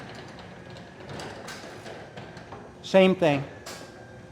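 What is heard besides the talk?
garage door opening with motor hum and hinge noise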